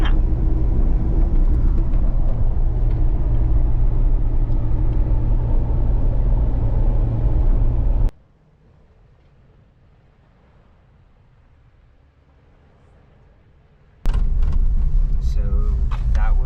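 An RV converted bus rumbles loudly over a bumpy dirt road near Congress, Arizona, with heavy low-end road and engine noise. The sound cuts to near silence partway through, then the rough driving noise resumes.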